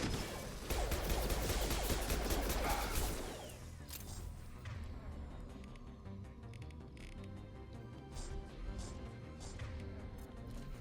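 Enemy gunfire from the video game Mass Effect 2 opens as a loud, dense burst of rapid shots and crashes, then drops to scattered quieter impacts over an ongoing background of game sounds.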